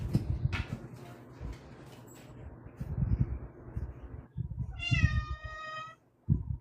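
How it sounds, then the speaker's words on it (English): A cat lets out one clear, drawn-out meow after several seconds of soft rustling and bumps, fairly close and with no talking. "Now you're going to hear the cat."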